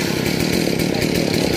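A Huwana 1621 chainsaw with a 90 cm bar runs steadily at a loud, even idle-to-mid rev, a close buzzing drone with no pauses or cutting load, used for felling a large rain tree beside a house.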